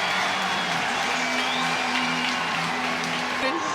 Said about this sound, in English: that gets the crowd fired up